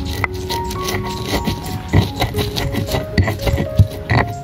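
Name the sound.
pounding chili sambal with a stone mortar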